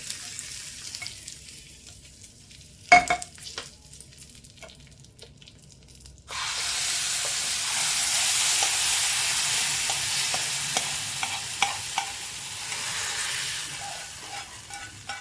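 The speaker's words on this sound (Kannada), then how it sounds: "ಸ್ವಲ್ಪ ಈ ಥರ ಶೇಕ್ ಮಾಡಿದ್ರೆ ಎಲ್ಲ ನೀಟಾಗಿ ಫ್ರೈ ಆಗುತ್ತೆ" Spices frying in hot oil in a pan for Andhra-style pachadi: after a quiet start and a single metallic clank, a steady, bright sizzle bursts in and continues close up as the pan is shaken.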